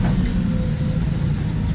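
A 4x4 Mitsubishi micro truck drives along with a steady low engine drone and road rumble from inside the cab, continuous and fairly loud.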